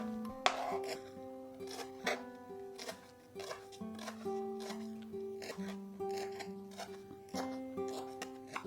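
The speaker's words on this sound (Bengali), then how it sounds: "একদম কুচিয়ে আমরা কচু পাতাটাকে কেটে নেব" Taro (kochu) leaves being finely chopped with a knife in a home kitchen: a steady series of light, crisp cuts, fairly quiet, set against faint background music.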